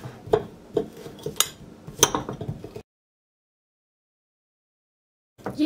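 A fork mashes plain tahini halva in a dish, giving scattered clinks and scrapes of metal on crockery for a few seconds, then silence before more clinking resumes.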